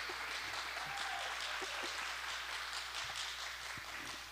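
A church congregation applauds after a baptism during worship, soft, even clapping that sounds faint and distant, with a brief voice early on.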